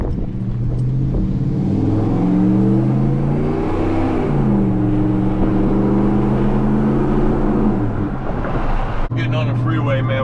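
A 2003 Hemi Ram truck accelerating on the open road, its engine note climbing and rising in pitch, loud and close from inside the cab, with a brief shift near the end.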